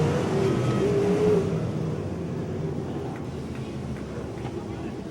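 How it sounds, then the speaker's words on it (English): Race cars roar around the Ocean Speedway oval during a Taco Bravo event, a loud, continuous engine drone with passing cars, heard under an announcer's running commentary. "Tarleton on it hard on the top shelf, trying to reel in Brad Furr"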